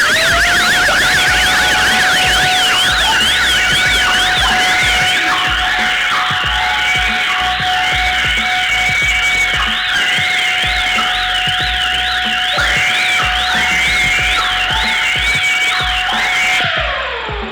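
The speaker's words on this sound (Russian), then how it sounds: "звука от одновременно включенных всех сирен, которые мы испытывали." Seven electronic sirens wail together at close range, overlapping warbling and steady tones, loud and continuous until they cut off near the end.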